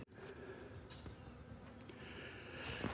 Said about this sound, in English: back to trying to catch a swarm before it flies away